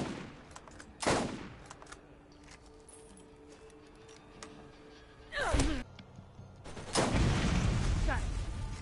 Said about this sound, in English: why am I getting shot at with snipers?